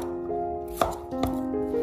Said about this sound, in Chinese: 拿出大蒜子把它切成小一点的颗粒，拿出去了皮的老姜，我们也把它改刀切成小颗粒